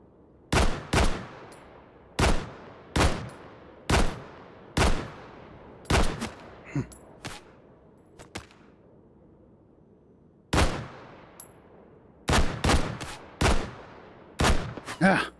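Freehand rifle shots in the VR shooter Hot Dogs, Horseshoes & Hand Grenades, loud sharp reports fired singly and in quick pairs with short pauses and a longer gap midway, each shot trailing off in echo.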